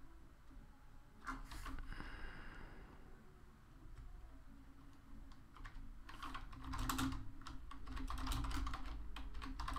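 Rapid clicking keystrokes on a new computer keyboard during gaming, quiet but steady clatter of typing close to the microphone, growing slightly busier toward the end.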